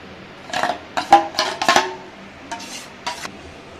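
Homemade mango ice cream mixture of fresh cream, mango pulp and condensed milk being stirred in a bowl: several close, wet scraping and sloshing strokes in short bursts with brief pauses, no talking.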